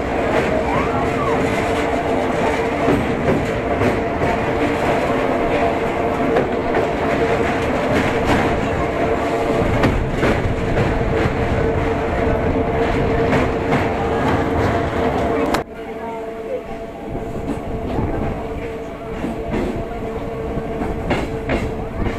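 A train rumbles steadily across the roughly 800-metre Rupnarayan rail bridge, built in 1900, with continuous rolling clatter of wheels that drops abruptly in loudness near the end as the carriage passes off the span.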